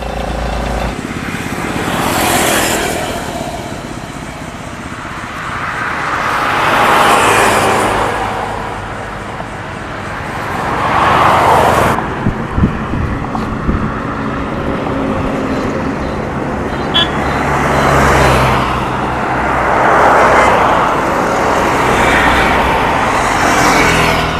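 Cars and other vehicles pass one after another along a roadside where someone is hitchhiking, each one swelling up close and then fading, with a steady traffic rumble between them and no talk.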